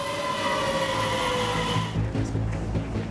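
A busy train station in a small polar town: a steady loud rumble of rolling rail cars with tonal squeal and hum, changing to lower, rattling clatter partway through, with no voices.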